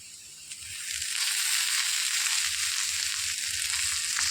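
Onions and tender tamarind leaves fry in a pan with a steady, close hiss of sizzling oil that swells after the first second and then holds, with a few faint scrapes underneath.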